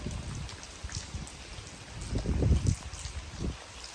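Rain falls in a Pakistani village with a soft, continuous hiss and patter, while heavier low splashing and dripping swells near the middle. It sounds close and moderately quiet, with no voices.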